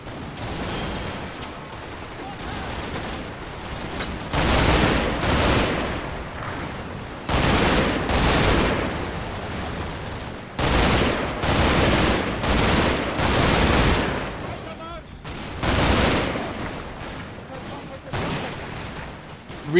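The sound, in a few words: machine gun fire in video game Combat Mission: Normandy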